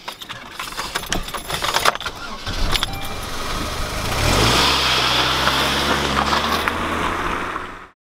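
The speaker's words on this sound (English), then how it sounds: "Start the car," A car engine cranks and catches amid rustling and a jingle of keys, then settles into a loud, steady idle that runs on for several seconds before cutting off abruptly.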